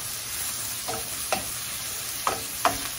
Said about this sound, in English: So give it a quick toss.